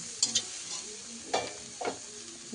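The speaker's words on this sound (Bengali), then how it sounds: "তো আমি ক্যাপসিকাম আর বিনসগুলো দিয়ে দিলাম এর মধ্যে। এবার আস্তে আস্তে এগুলো ভাজা হতে থাকবে।" Capsicum and beans frying in a pan for chowmein, with a faint steady sizzle and a few scraping stirs of a utensil against the pan, quiet and close, with no talking.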